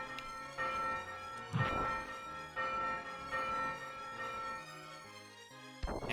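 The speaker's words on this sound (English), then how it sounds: "The bell is headbuttable." A struck bell rings out in the SNES game Demon's Crest, several resonant clangs spaced across the clip over game music, each with a lingering metallic decay.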